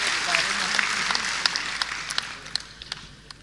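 Kavi sammelan audience applause, a broad crowd clapping that starts full and gradually thins out, with scattered sharper individual claps standing out as it fades.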